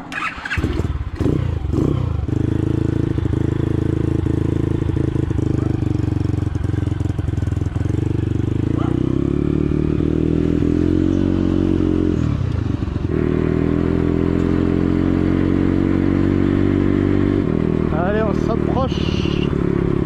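Motorcycle ride through the Agua Blanca indigenous community in Ecuador, heading toward a beach where fish are unloaded; the engine drones steadily and closely for the whole stretch with some clatter, and a voice talks over it.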